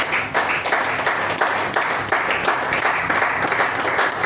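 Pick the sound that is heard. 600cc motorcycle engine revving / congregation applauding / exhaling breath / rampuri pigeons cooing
congregation applauding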